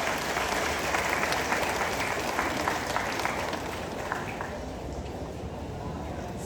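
Sustained applause fills a high school graduation hall, dense and steady at moderate volume, easing slightly toward the end with a faint voice underneath.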